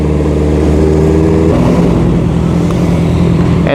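A Honda CBR650R with the resonator deleted and a short carbon muffler rumbles loudly up close, its exhaust note shifting to a higher, rougher pitch partway through.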